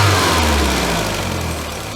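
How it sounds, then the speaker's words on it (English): Volkswagen Scirocco MK2 four-cylinder engine idling smoothly after a repair, a steady low hum close to the microphone, slowly easing slightly in level, with no voices. "listen to that idle, it's silk"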